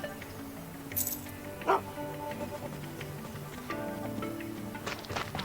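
A small dog in Final Fantasy VII Rebirth gives short, faint yips and barks, a few separate sounds over quiet game music and ambience.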